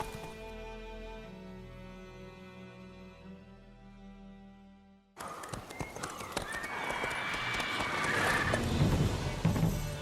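Roach the horse gallops in The Witcher 3, its hooves clip-clopping in a quick steady rhythm with a whinny, loud and close over game ambience after a musical opening.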